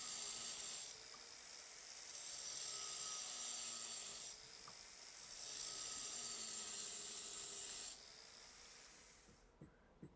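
An angle grinder cutting notches into a concrete bonsai pot, a loud high-pitched abrasive whine in two long passes with a short lull between, ending with a couple of faint knocks.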